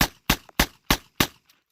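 Five sharp revolver shots fired at a water jug in quick succession, loud and close, each crack followed by a brief decaying echo, then a faint small impact sound.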